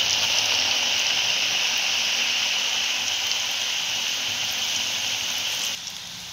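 Coated noodles deep frying in hot oil over a high gas flame, a steady, loud, dense sizzle and crackle that stays constant throughout, then drops slightly in level near the end.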